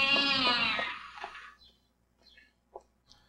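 A cat gives one loud, drawn-out meow up close, followed by a few faint, short chirps and small sounds in near silence.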